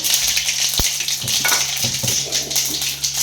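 Spices tempering in hot oil in a pan give a steady, loud sizzle with a few faint clinks of a utensil, no voices.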